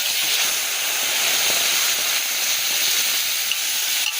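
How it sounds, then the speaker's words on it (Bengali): Cumin seeds and dried red chillies sizzle in hot oil as a tempering, giving a loud, continuous frying hiss with no pauses. "দিয়ে দিয়েছি ফোড়ন, ওখানে জিরা আর শুকনো লঙ্কা"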